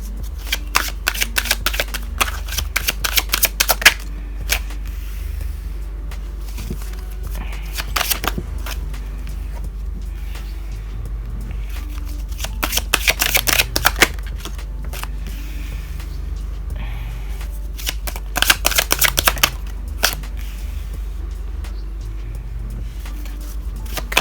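Tarot reading cards are shuffled in repeated bursts of crisp riffling, each lasting a second or two, separated by quieter pauses over a steady low hum, with no talking.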